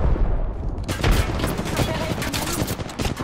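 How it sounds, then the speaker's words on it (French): Apex Legends gunfire rattles off in sustained rapid bursts, loud and close, filling the whole stretch with overlapping shots and booms. "Ouvre le feu"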